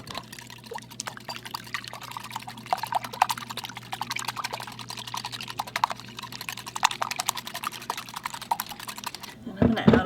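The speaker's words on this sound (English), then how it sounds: "I like to pierce the yolks and then start whisking" Eggs being whisked with a little water in a bowl, a steady run of quick, close clicking and tapping strokes filling the whole stretch, with faint background hum beneath.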